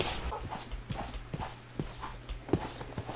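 A dog in the video game RLCraft gives repeated short panting and whimpering sounds in a steady rhythm, fairly quiet and close, with no talk over it.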